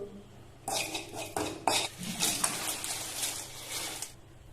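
A metal spoon scrapes and clatters around a hot pan, stirring dry crisp banana chips with salt, chilli powder and asafoetida in bursts of rattling, close and fairly loud.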